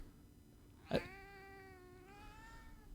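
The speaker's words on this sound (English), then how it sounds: "one meow for the audience" A house cat lets out one clear, drawn-out meow close by, about one and a half seconds long and sliding downward at the end, over a quiet room.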